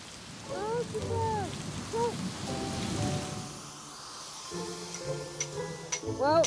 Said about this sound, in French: la pluie se met à tomber sur le chantier.